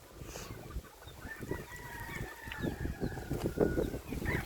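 Farm ducks on a breezy rural morning in the Philippine countryside, honking and quacking in repeated bursts close by over steady wind and outdoor background noise.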